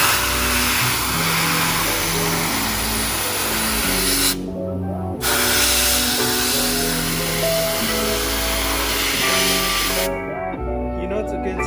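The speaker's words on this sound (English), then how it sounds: "Real good contact adhesive. So I'm going to spray some of this in there." Contact adhesive hisses from a spray can in two long, loud continuous bursts with a brief pause between, while a person talks over it.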